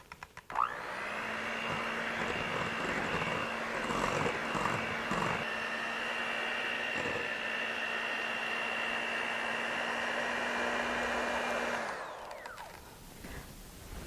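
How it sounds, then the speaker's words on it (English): An electric hand mixer whirs steadily for about eleven seconds while beating cake batter for a cannoli poke cake, a loud, even motor drone that starts abruptly and winds down at the end, with no talking. "I'm going to take my electric hand mixer. I'm just going to mix this up."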